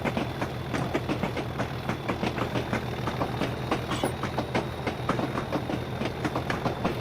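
EWS Class 37 diesel locomotive hauling a cement train on the Settle–Carlisle line in a train simulator game, engine at full throttle: a steady loud diesel drone with rhythmic clickety-clack of wheels over rail joints throughout.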